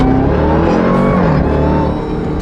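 A twin-turbo Lamborghini accelerating hard, a loud, close engine roar that climbs steadily in pitch through the gears with a brief dip partway, no voices over it.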